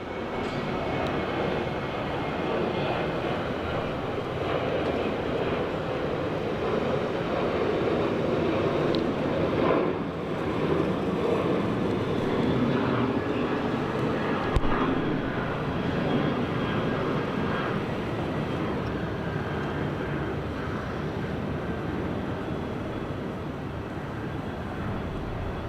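Virgin Australia airliner at Sydney Airport, a steady broadband jet engine roar holding at a constant level throughout, fairly close and loud with no talk over it.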